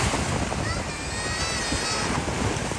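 Ocean surf rolls in at Daytona Beach, with steady broadband wash and wind buffeting the microphone throughout, the waves close and loud with no speech.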